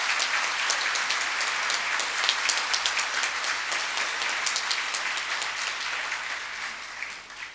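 Loud, sustained applause from the audience at the closing ceremony of a Panamanian procedural law congress, a dense wash of many hands clapping evenly throughout.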